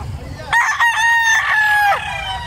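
A big black-legged lambuhon rooster crows once, close and loud, a single sustained call with a falling end after a brief start.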